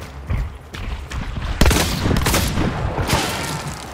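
Hunt Showdown gunfire rings out in several sharp, booming reports with echoing tails, one heavy shot standing out amid scattered, irregular fire.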